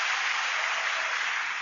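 A large audience claps steadily, a dense even wash of applause that stays constant without pause.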